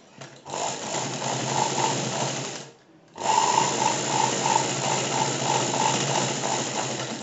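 A sewing machine stitches darts on a size 34 blouse, its motor whirring with a fast, steady rattle at close range. The machine stops briefly midway, then starts again and runs evenly.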